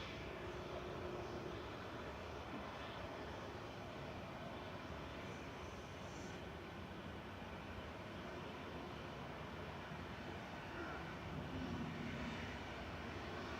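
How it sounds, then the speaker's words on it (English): An ETF Airways Boeing 737-800 operating for Jet2 departs Manchester Airport, its jet engines a steady, broad roar that holds at an even loudness throughout, with no voices present. "We've got the other ETF Airways 737-800 about to depart to Split,"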